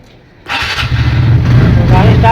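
A TVS Ntorq 125 scooter engine cranks and catches after a short quiet pause, then settles into a steady low idle that continues close by with a rising hum.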